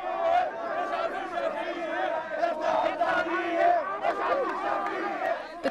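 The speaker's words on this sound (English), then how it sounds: "The crowd tries to break through the cordon to harangue Prime Minister Shafiq at the parliament buildings" A protest crowd shouts and surges against a security cordon near parliament buildings, a dense wall of raised voices and cries rising and falling continuously at moderate distance.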